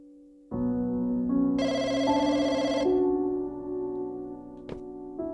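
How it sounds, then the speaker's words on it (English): A telephone rings in the Firework video game, a sustained electronic ringtone with layered tones that swells and then fades into quieter ringing, heard alone without speech. "But there is still a phone call."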